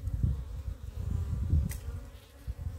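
Italian honeybees buzz in a steady, dense low drone around a hive box, close up and continuous with no voices.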